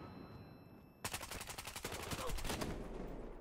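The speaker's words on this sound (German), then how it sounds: "da kommt wieder einer mit der overpowered Mega-Schrote und ballert alle weg hier" Rapid bursts of gunfire in Battlefield Hardline multiplayer, where an overpowered shotgun is in use, break in abruptly after a quiet second and repeat as a loud, dense rattling volley for the rest of the moment.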